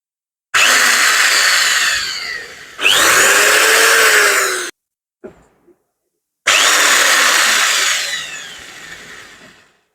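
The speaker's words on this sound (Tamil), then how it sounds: "ஒரு ட்ரில் பண்ணி நான் இப்போ போட்டு காமிக்கிறேன் பாருங்கள்" A power drill whines loudly in three long bursts, bogging slightly as it bites, with a brief clatter in a short pause.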